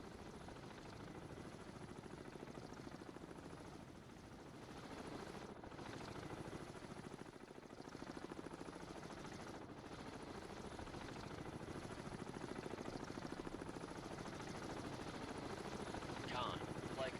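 An aircraft sets down on a ship's deck in the naval video game Cold Waters, heard as a continuous, faint, rotor-like mechanical drone that holds steady throughout.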